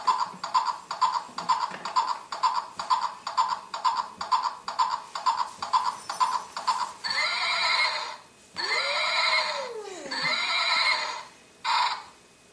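A toy horse plays a recorded neigh: a long run of rapid rhythmic whinny pulses, then several drawn-out squealing neighs with falling and rising pitch, bright and electronic, close and alone.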